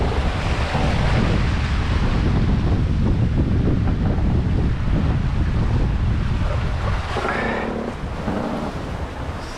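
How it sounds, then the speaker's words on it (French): Strong wind and a heavy ocean swell on a sailboat under full sail with a self-tacking jib, a constant loud roar of wind buffeting the microphone over rushing water, with no talking. "Donc il y a une belle houle, un bon vent."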